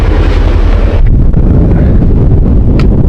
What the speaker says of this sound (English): It's very windy. Snow is blowing like crazy.